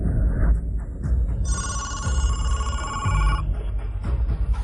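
A telephone rings out on an outgoing call: one steady electronic ring tone lasting about two seconds in the middle, over a low background rumble.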